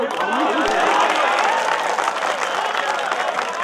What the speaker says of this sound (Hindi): अगर पसंद आ गया तो खुल के ताली बजाती है